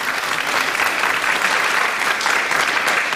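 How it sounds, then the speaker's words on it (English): A conference audience applauds its panelists with a brief, dense burst of clapping that stays steady throughout. "Please applause to our panelists."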